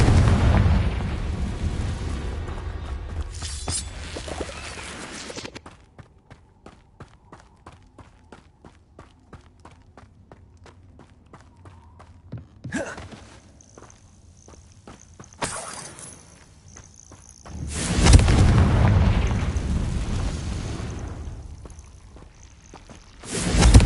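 Confringo and Bombarda spell blasts in the Hogwarts Legacy video game, loud booming bursts separated by quieter stretches of rapid footsteps, with a final large explosion swelling near the end.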